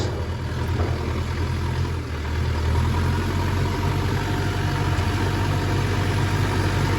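A farm tractor engine idles close by in a steady, loud low rumble with a slight change in tone about two seconds in, continuing evenly with no talking.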